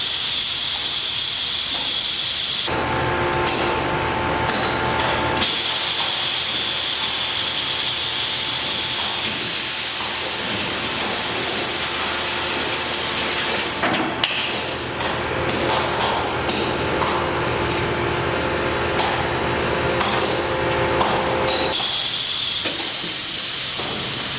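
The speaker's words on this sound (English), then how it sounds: "The tool came up, the vacuum turned on." Loud, continuous industrial noise from a dual-setup vacuum forming machine running a cycle, with hissing air and mechanical clunks, shifting in character partway through and again near the end, with no voices.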